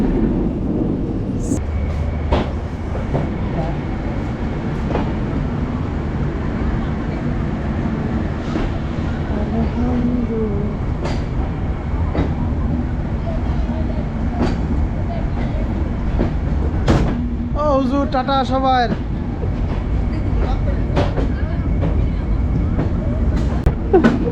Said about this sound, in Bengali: অনেক বড় ট্রেনটা